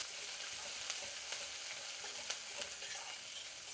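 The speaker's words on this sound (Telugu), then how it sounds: "ఎర్రగడ్డ మరీ ఎక్కువ వేగాల్సిన అవసరం లేదండి, ఒక భాగం వేగితే సరిపోతుంది." Sliced onions and curry leaves fry in hot oil with cumin and mustard seeds, giving a steady close sizzle with small pops and stirring scrapes and no voices.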